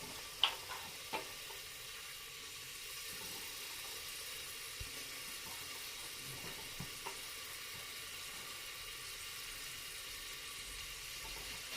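Chopped tomato and onion sauté in a pan with a faint steady sizzle, broken by a few soft clicks of a spoon against the pan, quiet and without voices.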